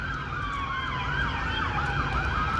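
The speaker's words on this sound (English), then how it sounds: "Oh, there's an ambulance." An ambulance siren wails in a repeating rising and falling pattern over low traffic rumble, steady and fairly loud as it passes along a street.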